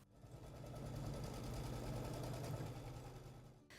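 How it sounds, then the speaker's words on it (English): An embroidery machine sews an applique placement stitch in a steady, fast mechanical whir with a rhythmic needle chatter. The sound is faint and continuous, with no voices. "Run your next machine step, which will be the placement stitch for your second set of applique."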